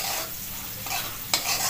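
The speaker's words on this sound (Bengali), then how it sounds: "এবার আলু দিয়ে দেবো।" Potatoes go into a shrimp masala frying in a pan, giving a continuous close sizzle with stirring scrapes and a sharp clink near the end.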